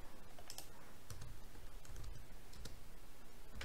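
Close-up, fairly quiet typing on a computer keyboard entering a terminal command, a quick run of clicking keystrokes with no voice.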